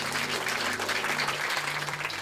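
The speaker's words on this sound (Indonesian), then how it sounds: "yang mau taat setia tepuk tangan yang meriah buat Tuhan" A church congregation claps together in sustained, even applause for God, steady and fairly close throughout with no talking over it.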